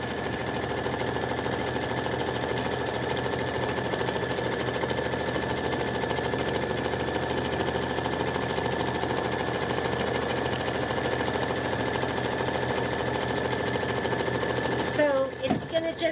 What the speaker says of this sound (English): And it's doing the quilting stitch too.